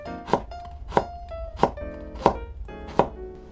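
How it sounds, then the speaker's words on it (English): Ginger sliced thinly with a knife on a cutting board, five sharp, evenly spaced chops ringing out close and clear with no talk. "Start by slicing the ginger thinly."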